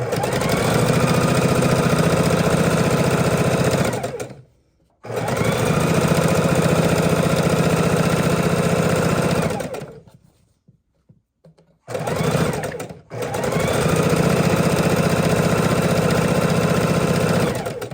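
A sewing machine chain stitches small fabric pieces for half-square triangles, running loud and steady in three long bursts with short pauses between them.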